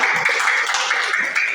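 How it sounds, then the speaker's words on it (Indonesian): Lively audience applause in a classroom or training session, a dense, even rattle of many hands clapping together, close and loud throughout. "Beri tepuk tangan yang meriah"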